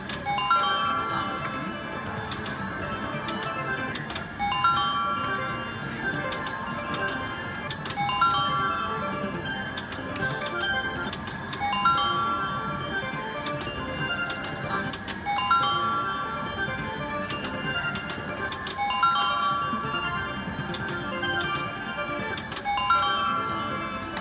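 A high-limit Wheel of Fortune 3x 4x 5x $5 slot machine plays a bright chiming jingle during free spins. The melodic phrase repeats every few seconds over a steady casino hum, with no talking.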